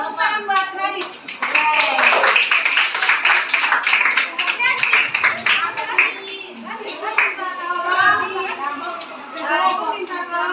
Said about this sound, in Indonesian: ternyata kita tepuk tangan buat Radit